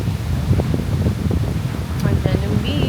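Steady wind buffeting the microphone at a beach in Boracay, with a low rumbling roar throughout and people talking underneath.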